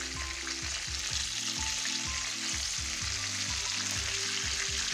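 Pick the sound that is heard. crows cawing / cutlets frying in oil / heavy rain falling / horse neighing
cutlets frying in oil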